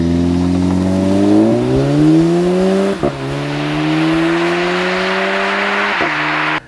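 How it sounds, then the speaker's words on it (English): A 2015 Audi S3's turbocharged 2-liter engine revving hard under acceleration, pitch climbing steadily through gears with brief dips at each of two upshifts, loud and close with no talk. "this is a really powerful 2-liter engine"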